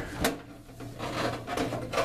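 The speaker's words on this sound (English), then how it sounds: "pop this back shell off." Back shell of a ControLeo2 reflow oven build being pried off, with a couple of sharp clicks and snaps of the panel coming loose over a steady low hum, close by.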